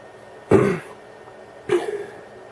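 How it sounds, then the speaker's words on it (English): Two separate rough coughs with throat clearing, close to the mic, about a second apart in an otherwise quiet room. "Got a bit of a cough coming on."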